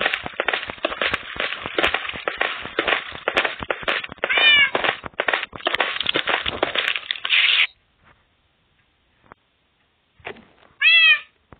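A cat meows in a video game creeper farm, with a few meows over a dense run of sharp clicking and crackling game sounds, then near silence and one last clear meow alone at the end.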